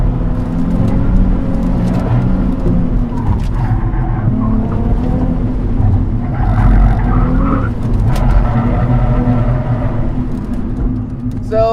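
A 2009 Nissan 370Z runs a slalom course, its engine droning loud and steady with rising and falling tones and faint tyre noise as it weaves, heard from close by with no clear talk over it.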